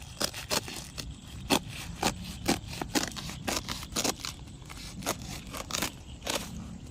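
A blade cuts through something crisp in a series of sharp, scraping strokes, close by, with a few-per-second uneven rhythm.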